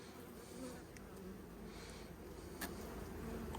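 Honeybees buzz loudly and densely around an open hive as a frame is slid back in, a close, continuous swarm hum with individual bees zipping past.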